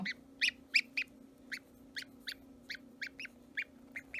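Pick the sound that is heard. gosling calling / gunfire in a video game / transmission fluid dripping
gosling calling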